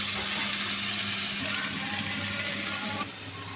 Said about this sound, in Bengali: মেশানো হয়ে গেছে, ঢেঁড়সগুলো দিয়ে দিব।